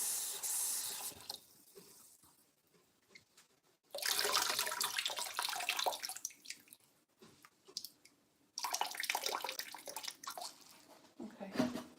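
Water gushing from a bathroom tap into a container in loud bursts, stopping and restarting three times with quieter pauses between, splashing and spraying up close.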